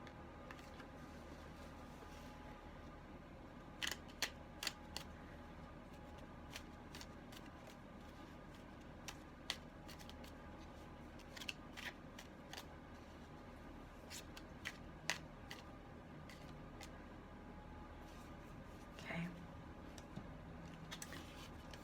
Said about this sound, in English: just shuffling the cards from the last group back in